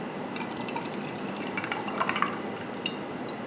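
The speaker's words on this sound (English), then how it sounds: "And then we're gonna add coconut water." Coconut water poured into a mezcal cocktail with lime, a soft liquid trickle with a few small drips and splashes, quiet and close with no talk.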